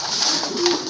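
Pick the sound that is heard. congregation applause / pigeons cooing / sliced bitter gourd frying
pigeons cooing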